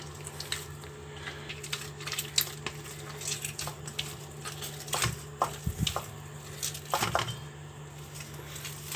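Bakery-style chicken bread dough, with a tablespoon of oil added, being kneaded and pressed by hand, giving soft, close, wet squishing and slapping sounds in an irregular rhythm over a faint steady background hum.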